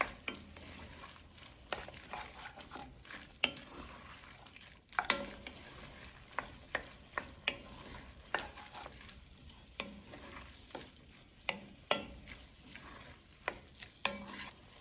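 Three cloves of garlic fry in a pan for arroz con pollo, with a soft steady sizzle under repeated, sharp scraping strokes of a utensil stirring against the pan, close and alone.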